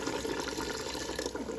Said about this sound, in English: I'm gonna be adding about a cup or so of water